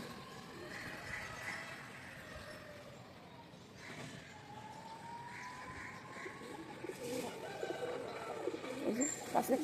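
Pigeons cooing softly at a distance over quiet outdoor ambience, with a faint tonal sound drifting by and a few louder rustles near the end.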